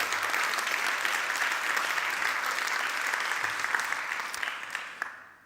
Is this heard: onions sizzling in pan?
no